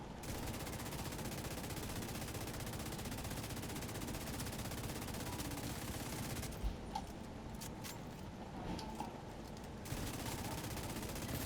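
Sustained automatic gunfire from The Division 2 video game, dense continuous bursts that dominate throughout with a brief thinner stretch in the middle, no talk over it.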